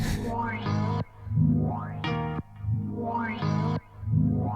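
A processed synth sample repeats in roughly one-second swells, gritty with drive distortion and sweeping delay echoes trailing each note; loud and alone, no talking.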